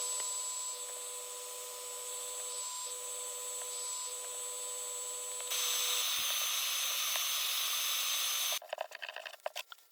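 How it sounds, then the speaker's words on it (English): A power sander whines steadily against a pallet wood bird carving as a piece is sanded to fit a gap, the tone shifting partway through and giving way to rougher scraping at the end. "just sanding it to get it so it's a nice fit in that gap"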